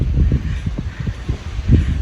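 Strong wind buffeting the microphone on an exposed mountain trail summit in New Hampshire's White Mountains, low rumbling gusts pulsing irregularly and loud throughout, with no voices.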